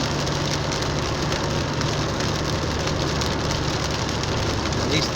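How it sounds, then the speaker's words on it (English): Heavy rain hammers a moving car, a thick unbroken wash of drops on the body and glass layered over a steady low engine and tire drone, loud and close throughout. "I don't think I can take any pictures because of the rain."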